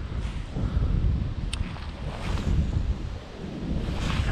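Steady, heavy wind buffets the microphone on a riverbank during baitcasting with a Bearking Ninja Turtle BFS fishing reel, rising and falling in gusts with no clear sound of the cast.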